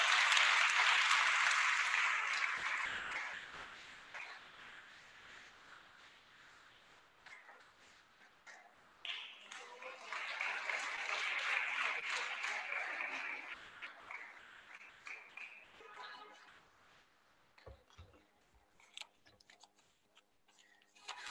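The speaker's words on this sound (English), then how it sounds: "A loud round of applause." A school investiture ceremony audience gives a long round of applause for a departing teacher, a steady wash of clapping that swells twice before fading into scattered claps and faint room noise.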